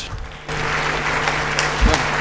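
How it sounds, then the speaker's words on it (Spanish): An audience at a congress on citizenship and robot rights applauds to welcome Dr. Fabio Jofré Kalasic to the stage, a steady wash of clapping that starts abruptly and carries on over low hum. "Recibimos entonces con un fuerte aplauso al doctor Fabio Jofré Kalasic."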